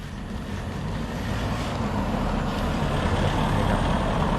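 A large chicken-collection truck rumbles nearby with a steady low engine drone that grows slightly louder, plus a faint hiss of air brakes.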